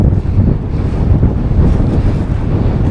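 Strong wind roars against the microphone while cycling along a windy road, a loud continuous low buffeting rumble with no talk.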